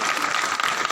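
Audience applause fills a hall after a poetry recitation, a steady dense wash of many hands clapping, loud and continuous throughout the short moment with no talking.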